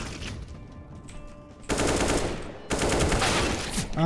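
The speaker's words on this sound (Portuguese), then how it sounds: "O cara deu um tiro com a AK dele." Bursts of rapid automatic AK rifle fire in CS:GO, two long loud volleys with a short gap between, preceded by quieter background noise.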